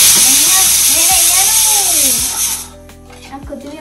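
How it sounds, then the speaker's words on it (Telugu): Loud, steady steam hiss of a pressure cooker whistling while sambar cooks in a home kitchen, cutting off after about two and a half seconds, with someone talking over it. "అదిగోండి కుక్కర్ కూడా విజిలేస్తుంది సాంబార్ కి."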